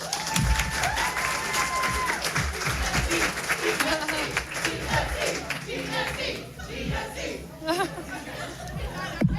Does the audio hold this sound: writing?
no